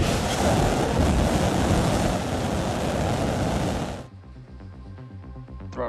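SpaceX Starship rocket engines starting up and throttling, a loud broad roaring rumble that holds steady for about four seconds before cutting away to near quiet.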